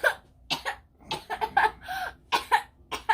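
A person coughs repeatedly in a string of short, harsh bursts, some coming in quick pairs. The coughs are close and fairly loud against a quiet background.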